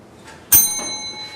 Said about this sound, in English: The beginning of this period will be when I ring the bell.